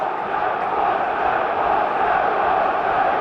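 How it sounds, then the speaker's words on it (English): A home football crowd at a Stoke City match roars in a steady, dense wash of cheering and chanting that fills the stadium, loud and sustained with no clear breaks. "Getting the crowd going though."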